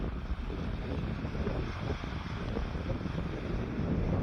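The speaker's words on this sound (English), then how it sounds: "all this water running down under the gate" Water running steadily down under a gate along a coastal path, a dense continuous rush mixed with wind buffeting the microphone, no voices.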